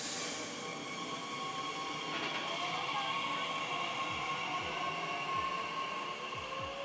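Train rolling past near a Dresden station platform, a steady broad rumble with wheel and rail noise and faint high squeal tones, loud and continuous throughout, no talk.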